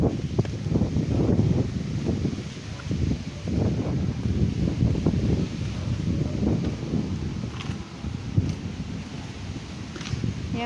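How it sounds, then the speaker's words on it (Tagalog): Gusty monsoon wind blows steadily outdoors in a chili pepper garden, with a continuous rushing roar and faint rustling of leaves, close to the microphone and buffeting it throughout. "Maganda dito, mahangin."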